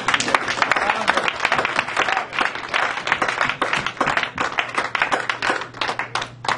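A church congregation applauds in praise of the Lord Jesus, with dense, continuous clapping from many hands filling the room and voices mixed in among the applause.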